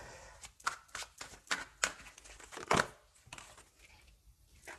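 A deck of tarot cards is shuffled close up, with quick papery riffles and slaps coming in irregular bursts, fairly soft and with no talk over it.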